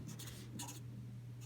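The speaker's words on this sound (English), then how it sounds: "you would just literally write the words" A pen or pencil writing a number out in words on paper, giving a few quick, close scratching strokes in a quiet room.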